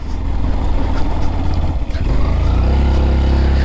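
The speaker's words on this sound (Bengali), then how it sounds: "যাক এক টান দেই গিয়ার চারটা দিয়ে দিলাম দেখি কতটুকু উঠা যায়" Motorcycle engine pulling uphill in gear on a hill road near Boga Lake, a loud, close, steady drone that dips briefly then rises again as it strains up the slope.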